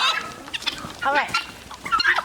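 A hen squawks and clucks in short, agitated bursts close by, with brief gaps between the harsh calls.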